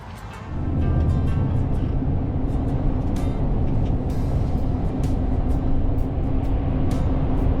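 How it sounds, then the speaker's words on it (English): A lorry drives along a road in the evening, its steady engine rumble and road noise building in the first second and then holding loud and continuous, with no voices. "it's a beautiful evening for driving lorries around."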